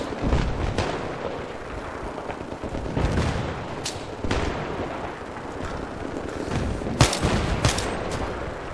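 Battlefield 3 gunfire on the Seine Crossing map, a dense continuous rattle of shots and distant blasts, with several sharper, louder reports standing out over the busy battle noise.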